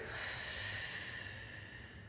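A long, slow inhale through the nose during a back-flexibility exercise, a soft airy breath close to the microphone that gently fades.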